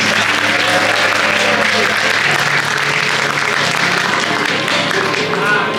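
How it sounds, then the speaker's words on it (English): A theatre audience at a musical production bursts into loud, sustained applause, dense clapping with some cheering filling the hall close and strong from start to finish. "Big round of applause!"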